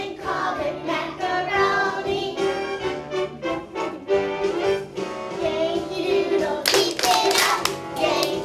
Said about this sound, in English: then we're going to do what we call a slide clap